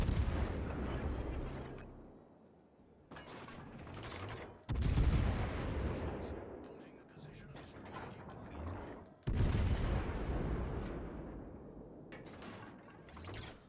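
Warship main guns firing in World of Warships: Legends, three heavy booming salvos spaced several seconds apart, each with a sharp loud onset and a long rumbling decay, with no talking.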